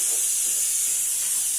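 Meat boils in a pot outdoors at a village home in Turkey, giving off a steady, close, continuous steamy hiss with no pauses and no voices over it.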